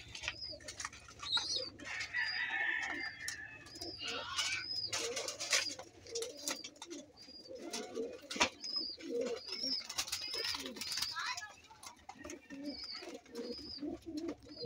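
A large flock of named pet pigeons keeps up a continuous low, throaty cooing, overlapping from several birds nearby, mixed with occasional higher chirps and brief fluttering sounds.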